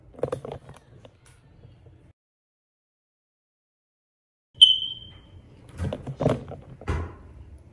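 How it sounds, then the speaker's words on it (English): A smoke detector with a dying battery gives a single sharp electronic chirp partway through, loud and short, with a quiet pause before it and people talking around it. "This smoke detector right here, the battery's like dead, so it just keeps beeping all night."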